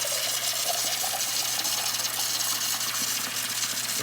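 Water gushes steadily from a tap into a cup while bread dough is being prepared, a loud, continuous hissing rush with no pauses and no talking.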